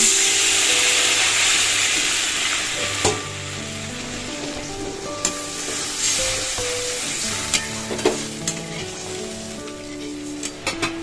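Water hits a pan of sautéed spice masala and sets off a loud, continuous sizzle that gradually settles into a bubbling hiss, broken by a few sharp clicks and pops of a spoon, with no talking.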